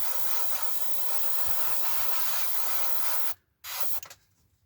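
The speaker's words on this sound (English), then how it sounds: "So I am going to just spray the inside of the intakes black." An airbrush sprays black paint into the masked intakes of a 1/48 scale Kinetic F-104J Starfighter model, a steady close hiss that runs alone, cuts out briefly, then resumes in short uneven bursts before stopping.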